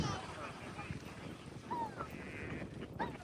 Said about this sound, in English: The wind is now starting to pick up again.